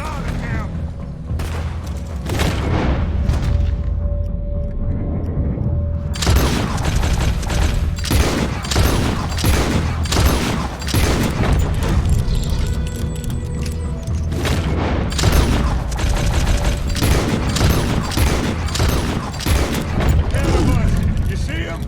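Heavy gunfire in the video game Red Dead Redemption 2 during a shootout at Bronte Manor: dense volleys of gunshots and booming blasts fire continuously, loud and close, with shouted voices mixed in throughout.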